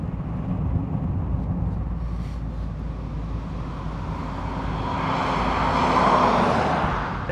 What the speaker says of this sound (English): the lovely mid-range, the low-end torque, and the little growl at lower revs when you put your foot down